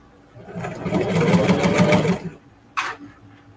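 A sewing machine stitches a reverse appliqué quilt block of fabric scraps and denim in a close, rising run of about two seconds, then goes quiet apart from a short mechanical clack near the end.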